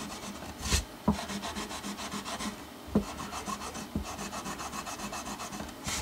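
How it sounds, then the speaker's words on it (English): A fret eraser scrubs the grubby frets of a Crafter acoustic guitar, a close, steady rasping rub with rhythmic strokes and a few louder knocks, with no voices. "Fret Eraser action here."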